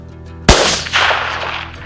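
A single sharp, loud rifle shot fired at a bull during a hunt, with a booming report that rolls off and echoes for more than a second afterward, no talk over it.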